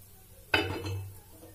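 A utensil clinks sharply against a metal pan or plate while ghee is worked into paratha, one close bright clatter followed by a short soft scrape, then quiet.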